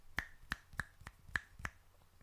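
Crisp finger snaps, six of them, sharp and close, spaced at roughly even intervals with quiet between each, alone and without any voices.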